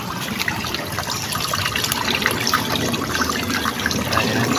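A stream runs beside a farm lot, its water flowing and splashing continuously with a close, busy trickle and gurgle and no voices.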